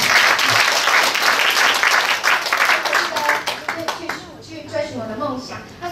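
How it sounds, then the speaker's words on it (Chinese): Applause from an audience at an association members' meeting and handover ceremony, a dense burst of clapping that thins into scattered claps toward the end, with a voice speaking over it. "那也请大家给我们掌声"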